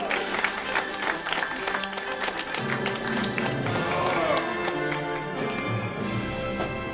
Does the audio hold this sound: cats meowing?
no